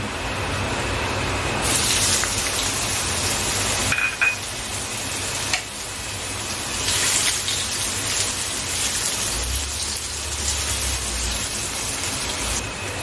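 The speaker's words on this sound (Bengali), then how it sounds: "এবার আমি পনিরের টুকরোগুলোকে ভেজে নিচ্ছি" Paneer pieces frying in hot oil for a vegetarian matar paneer, a steady broadband sizzle and crackle with faint spitting pops, continuous and close throughout with no talking.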